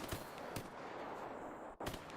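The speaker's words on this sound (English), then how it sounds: "I love hearing like the gunshots going on right now." Distant gunfire in the shooter game S.T.A.L.K.E.R. Anomaly: a few dull cracks and thumps spread over about two seconds, heard far off beneath a steady wash of ambient noise, with no talking.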